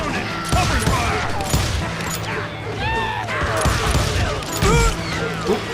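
Gunfire in the Western shooter Call of Juarez: Gunslinger, with repeated sharp shots and impacts scattered through a busy battle mix, accompanied by voices speaking over the action.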